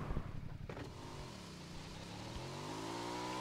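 Car in the video game BGMI revving up, a close engine whine that rises and dips in pitch after a short thump, continuous and without talk.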